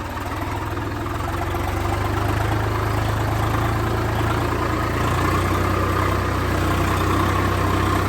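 A 4x4 tractor engine idles steadily, a low, even rumble with a faint rhythmic knock that runs loud and unbroken throughout, with no voices.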